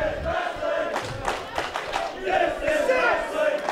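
A crowd at a wrestling show in Arlington roars and chants rhythmically in unison, the shouts rising and falling in pulsing bursts, loud and close throughout.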